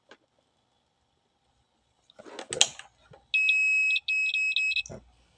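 A shrill electronic beep from a multimeter's continuity tester checking a rice cooker part sounds in one steady tone, then chirps in several quick bursts, after brief handling clatter.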